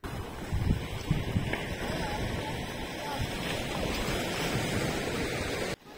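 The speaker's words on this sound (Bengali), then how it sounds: "অল্প বিস্তর ঢেউও ভাঙছে পাড়ে এসে" Small waves wash steadily onto the shore at Bakkhali under a constant hiss of wind, continuing evenly before cutting off abruptly near the end.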